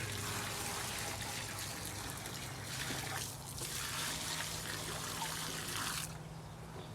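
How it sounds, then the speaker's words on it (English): Liquid termite treatment pours steadily into a trench dug along the wall of a pier and beam house, a continuous splashing wash that stays even throughout before easing off near the end. "that's all you do is just pour it in your trench"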